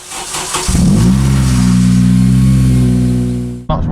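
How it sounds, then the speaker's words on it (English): Honda Civic Type R FN with a resonated COBRA sports exhaust starts up: a brief starter crank, then the engine catches with a quick rev and settles into a loud, steady idle hum before cutting off abruptly. "When the engine's cold, start the car up and it's just there doing its warm-up cycle, it sounds absolutely fantastic"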